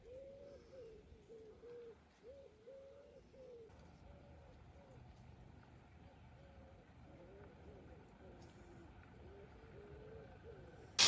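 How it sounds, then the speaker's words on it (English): Pigeons or doves coo repeatedly in a soft, rhythmic series at a quiet wilderness lake used for carp fishing, with a steady low ambient background and other faint bird calls. "I'll just let you enjoy the peacefulness of the lake and the wilderness and the birds"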